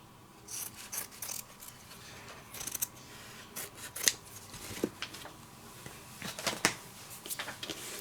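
Scissors snip through black felt in a series of short, crisp cuts spaced irregularly, close and fairly quiet, with a faint handling rustle between snips.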